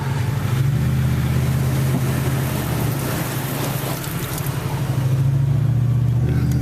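A Jeep drives through a flooded street after a micro-burst wind storm, its steady engine drone running loud and continuous under a broad wash of water spray and splashing throughout.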